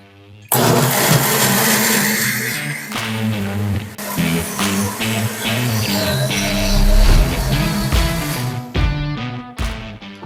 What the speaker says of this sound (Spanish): Ahora voy a moler todo el contenido de mi salsa.